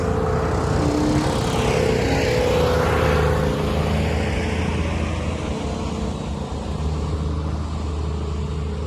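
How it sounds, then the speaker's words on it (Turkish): A farm tractor engine runs steadily at close range, a constant low rumble with a droning tone that holds throughout with no talking. "Bu da benim traktörüm."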